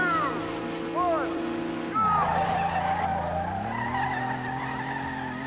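A drag race car in the driving game Street Legal Racing Redline launches with a roaring engine and squealing tires, its pitch dropping at a gear change and then climbing steadily, loud and close under a speaking voice.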